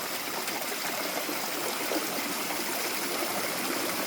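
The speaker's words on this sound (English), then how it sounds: "What a stunning stream we found." A cold Himalayan mountain stream rushes steadily over rocks, a constant close hiss of flowing water with no pauses or voices.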